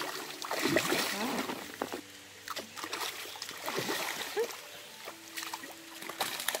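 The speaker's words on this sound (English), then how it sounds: "They're splashing water on me." Rainbow trout splashing in the water while being fed, with irregular bursts of splashes and sloshing close by, voices speaking softly between them.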